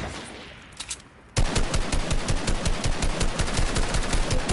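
Automatic rifle fire in Fortnite. A couple of faint, distant shots come first, then a loud, steady stream of rapid shots begins about a second and a half in and runs at an even rhythm until the end.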